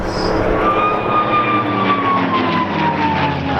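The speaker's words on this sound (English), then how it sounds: "that characteristic whine for the Dunsfold on the P-51 Mustang" A P-51 Mustang roars past at the Dunsfold Wings & Wheels 2014 airshow. A loud, continuous engine drone carries a clear high whine that slowly drops in pitch as the plane passes.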